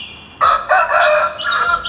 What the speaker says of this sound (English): It's a chicken here, actually.